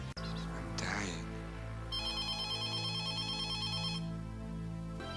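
A telephone rings in a scene from the film Ferris Bueller's Day Off, a steady electronic trilling that repeats for several seconds over a low film score, loud and close.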